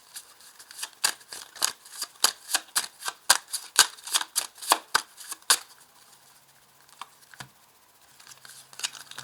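A 32-card deck shuffled by hand, a rapid run of crisp riffling snaps and flutters, close and fairly quiet, that trails off into a few scattered taps.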